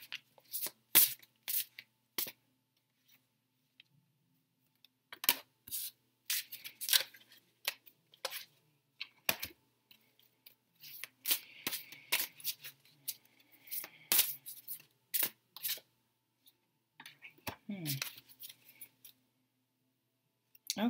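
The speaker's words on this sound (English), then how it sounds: "So I think I'm just going to draw 3 cards today, and I'm using Doreen Virtue's Fairy Tarot cards." Tarot cards from a Fairy Tarot deck being shuffled by hand, with repeated short riffling bursts and pauses, close and fairly quiet, with no talking.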